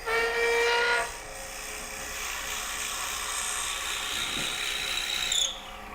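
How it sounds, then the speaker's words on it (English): A drill bores a half-inch hole through a wooden ornament blank turning on a lathe, giving a steady mid-level mechanical whir after a brief louder burst at the start, then cutting off near the end. "I'm going to drill a half-inch hole all the way through"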